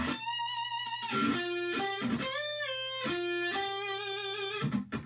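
Sustained electric guitar notes with smooth upward and downward pitch bends, repeated phrases played alone with a slightly driven tone.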